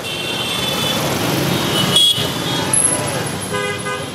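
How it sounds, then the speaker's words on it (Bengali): Car horns honk in congested city traffic in the capital, short toots rising over a constant roadway rumble with a voice in the background. "রাজধানীর যে কোনো রাস্তায় দাঁড়ালেই কেবল হর্নের শব্দই একজন সুস্থ মানুষকেও অসুস্থ করে ফেলে।"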